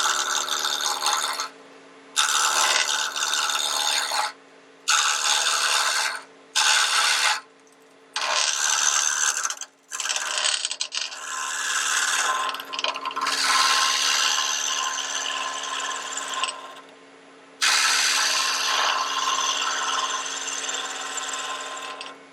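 Wood lathe spinning a bottle stopper blank with the tailstock tightened, a steady whirring hum broken by repeated short pauses early on, then longer continuous stretches of scraping tool contact, close and loud with no talking.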